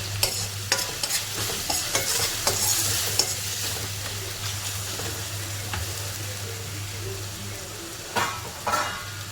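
Onion, tomato and ginger-garlic paste fry in a pan for a sprouted moth bean misal, giving a steady low sizzle with scattered spatula scrapes and stirring clicks throughout.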